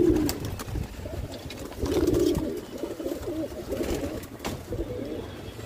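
Pigeons in a loft give repeated low, throaty coos close by, in several rolling phrases with soft rustling between them and no talking.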